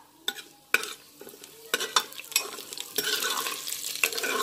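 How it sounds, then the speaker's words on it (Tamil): Cumin seeds splutter and crackle in hot oil in a pan, a string of sharp pops growing denser into a steady close sizzle, with a few light utensil clinks and stirring scrapes. "சீரகம் நல்லா பொரியட்டும்."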